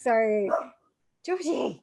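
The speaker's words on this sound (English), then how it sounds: "Sorry about my dogs." Dogs barking indoors, a couple of sharp barks and yips close by, overlapping a person speaking briefly.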